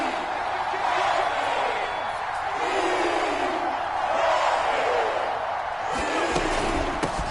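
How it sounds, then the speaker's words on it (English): A stadium crowd in a PS4 football game roars in a steady, moderately loud swell ahead of a big third down, with no one speaking over it. "the crowd getting into it as we come up on a big 3rd down"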